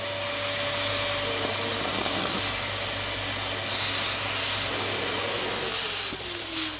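A spray gun applying sealant to car wheel arches gives a loud, steady airy hiss that swells and dips slightly across several seconds, with no talking.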